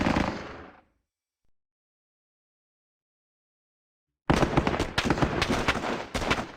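MG42 machine gun fire in the Squad Battles game, a burst that cuts off into near silence, then a loud run of rapid, closely spaced shots with short pauses toward the end.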